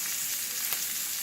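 Brined chicken fries in oil in a frying pan, giving a steady, close, bright sizzle with no talking.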